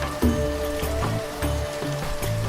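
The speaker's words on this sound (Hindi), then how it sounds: "अभी बारिश है और भीगने के डर से यहाँ खड़े हो गए" Steady rain falls in a village, sheltering under a tree by wet lanes, a continuous close patter with a low rushing wash and no talk.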